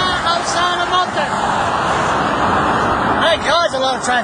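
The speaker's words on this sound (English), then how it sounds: "Thank God there's a lot of traffic here" Busy roadside traffic outside Moncton, a loud constant roar of passing vehicles with brief squeaky tonal sounds near the end, with no break in the noise.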